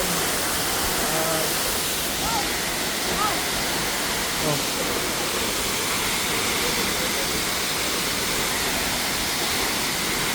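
Kipilas waterfall pours down hard in a loud, steady rush of white water, close by and unbroken, with faint voices in the background.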